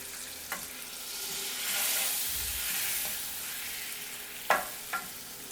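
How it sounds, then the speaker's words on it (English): Unsalted butter sizzles and spits as it melts in a saucepan over medium heat, a steady close frying hiss with a few sharp pan taps, with no talk. "In a saucepan, we're going to take 1/2 cup of our unsalted butter. We want to do this on about a medium heat."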